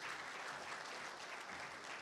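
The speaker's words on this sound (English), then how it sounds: "you can clap again" Steady applause from a school spring concert audience, a dense wash of clapping hands that stays loud and even for the whole stretch with no break.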